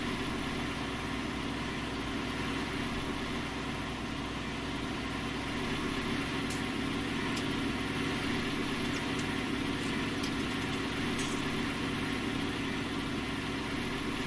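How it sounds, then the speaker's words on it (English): A 9RT tractor in Farming Simulator 19 runs at a steady idle, a constant droning engine rumble heard alone throughout with faint occasional clicks. "Another classic custom modding mod here. The 9RT. Brilliant tractor this."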